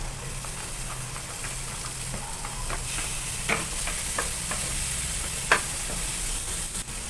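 Onion and garlic frying in a pan for a chicken dish, a steady hissing sizzle with occasional light scrapes and taps of a utensil, close by with no talking.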